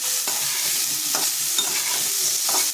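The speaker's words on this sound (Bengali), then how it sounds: "গ্যাসটা কমিয়ে আমি ভাজা করবো ফুলকপিটা।" Cauliflower pieces frying over a low gas flame, a soft continuous sizzle broken by several stirring scrapes of a spatula against the pan, close and unaccompanied by speech.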